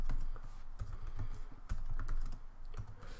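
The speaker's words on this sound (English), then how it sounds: "let's type in apt get." Rapid clicking keystrokes on a computer keyboard as a Linux command is typed out, close and crisp with uneven bursts and short pauses.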